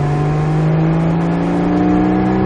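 Porsche Cayman GTS engine pulling hard on a racetrack, a loud, steady close-up drone with harmonics climbing gradually as the revs rise, no voices over it.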